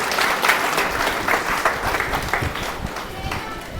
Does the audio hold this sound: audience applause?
yes